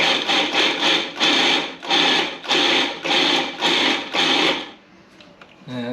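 A food processor pulses hummus in about eight short, loud bursts of whirring and churning close up, each with a brief pause between, before the motor stops and only faint handling noise remains.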